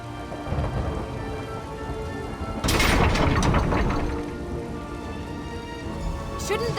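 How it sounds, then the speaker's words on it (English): A rainstorm in Elder Scrolls Online: steady heavy rain with a loud thunder crash partway through that rumbles and fades into the downpour. "How often are we going to see a tempest like this in one lifetime?"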